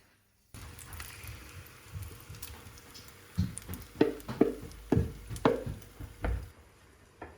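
A mix dropped into hot olive oil in a pan: a low steady sizzle, then a series of wet, sputtering spatters and stirring knocks, close and fairly quiet.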